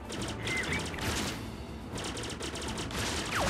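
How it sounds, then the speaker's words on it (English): Star Fox Zero main laser firing on the Wii U, a dense run of rapid repeated shots in a steady rattling rhythm, loud and continuous amid game sound effects with a couple of brief zipping tones. "Press the ZR button to fire your main laser."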